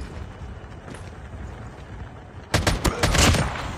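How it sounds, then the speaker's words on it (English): Gunfire in Call of Duty Mobile: after a stretch of low background rumble, a quick cluster of sharp shots bursts out nearby near the end, loud and rapid. "Oh, shots behind us."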